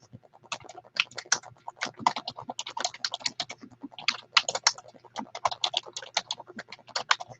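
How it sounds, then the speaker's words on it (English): Fast, continuous typing on a computer keyboard during work at a desk: dense, irregular key clatter up close for several seconds, with a faint low hum underneath and no voices. "I can't talk and type at the same time."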